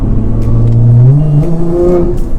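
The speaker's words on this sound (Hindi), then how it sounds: "ये बूस्ट लॉजिक कंपनी है अमेरिकन, ये उसका एग्जॉस्ट इंस्टॉल किया हुआ इसके अंदर, जिसकी वजह से इस गाड़ी की इतनी आवाज़ है।" A tuned Nissan GT-R with an American Boost Logic exhaust revs loudly at close range, its engine note climbing and falling in one deep, swelling blat with no voices over it.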